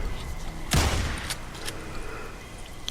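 A shotgun fires in the Days Gone video game: one heavy, punchy blast, followed by a few fainter shots and impacts spread over the next couple of seconds against constant background ambience.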